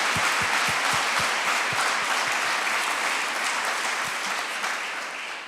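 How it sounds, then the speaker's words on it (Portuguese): Congregation applauding in a church service, a loud, sustained wash of clapping with a few sharp low thumps, lasting several seconds and easing slightly at the end. "forte salva de palmas para Jesus"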